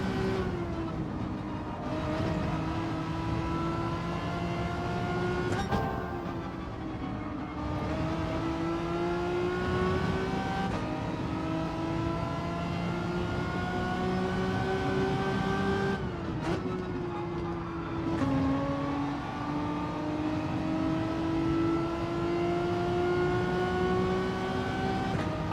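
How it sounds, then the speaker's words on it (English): Race car engine in Gran Turismo 7 revving through the gears, with repeated sharp throttle blips on each downshift, loud and steady over about 25 seconds and no talk over it. "That's the game that blips the throttle when you change gear."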